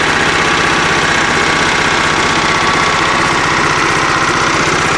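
A John Deere L110 lawn tractor with a Kohler engine runs steadily at close range, a loud, even mechanical chug with a rapid regular pulse throughout and no voices.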